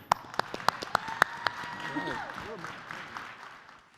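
An audience at a government contracting and consulting talk applauds, a few distinct nearby claps at first, then scattered clapping blending with crowd murmur and a voice, fading over a few seconds.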